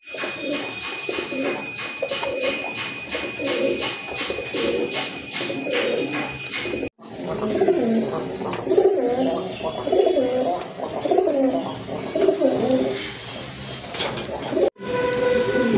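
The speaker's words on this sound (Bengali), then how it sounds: "খুবই সুন্দর এক জোড়া কবুতর।" Domestic pigeons, including a pair of satin pigeons, coo repeatedly at close range in soft rolling phrases, with a short break partway through and a fainter rumble in the background.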